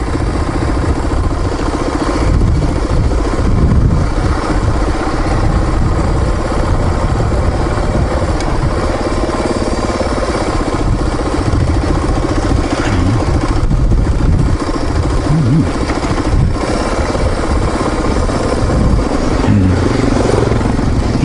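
A motorcycle climbs the Otay Truck Trail, its engine a loud, continuous close-up drone with slight rises and dips in revs throughout.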